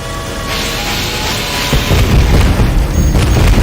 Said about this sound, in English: one of the shuttles blew up as well.